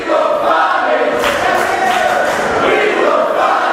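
A wrestling crowd at a Tidal Championship Wrestling show chants together in a dim hall, a loud steady roar of many voices with rhythmic swells throughout.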